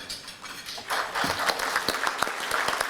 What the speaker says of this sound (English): Could the trustees please stand and get a round of applause?